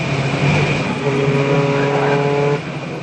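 Race car engines at Silverstone GP during a Britcar Trophy Championship race, a Golf TDI and a TT TFSI among them, hold a loud sustained tone with steady harmonics that rises in pitch as revs climb, then eases off near the end.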